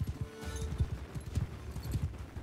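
Horses galloping in the Mount and Blade Bannerlord video game, a steady rapid drumming of many hooves in overlapping clip-clop beats, moderately loud and continuous with faint battle noise behind.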